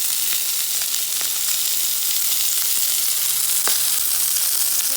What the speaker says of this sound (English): I just used the cast iron skillet, and I put a little bit of bacon grease down. And so now it's going to start cooking.